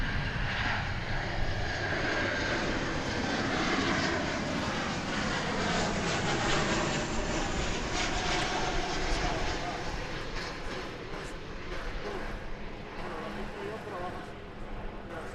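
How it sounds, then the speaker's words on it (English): An American Airlines passenger jet arriving at DFW Airport produces a loud, sustained engine roar with a slowly shifting pitch, and a voice talks over it. "This is American Flight 1729 arriving from Fresno,"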